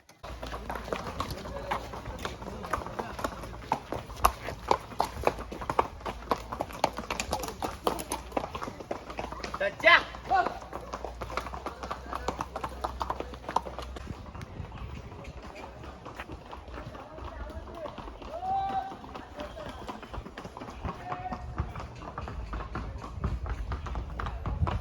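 Horse hooves clip-clopping steadily on a path in the hill station of Matheran, Maharashtra, a continuous rapid rhythm of taps running under a voice speaking throughout.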